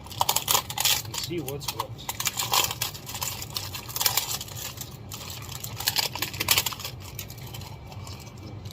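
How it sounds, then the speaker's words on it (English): Cellophane packaging around a Homelite Super XL chainsaw piston kit being opened, with close crinkling and rustling, short crackly bursts throughout, under a brief spoken remark. "let's open up this cellophane"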